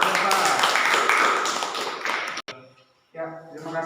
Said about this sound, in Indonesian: Boleh beri tepuk tangan untuk Bapak.